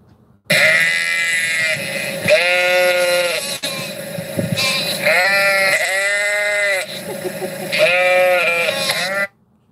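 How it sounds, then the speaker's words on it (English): Several sheep bleat in a series of loud, wavering calls, one after another with short gaps, close by at an outdoor rally, with no speech. "More sheep."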